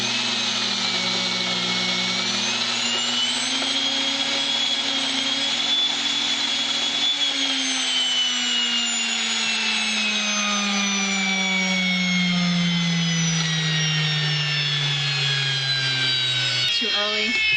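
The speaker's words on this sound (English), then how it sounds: "that's how you use the Nutri-Mill" A Nutri-Mill electric grain mill grinds red spring wheat into flour with a loud, steady whining drone that shifts slowly in pitch throughout, ending with a brief clatter.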